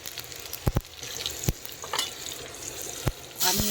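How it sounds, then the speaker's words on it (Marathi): Mustard seeds and cumin sizzle and crackle in hot oil over a wood-fired chulha, a steady close frying hiss broken by a few sharp pops and a louder burst of sizzling at the end. "आपल्याला तेल टाकायचं आहे आणि लगेच त्याच्यामध्ये थोडीशी मोहरी टाकायची"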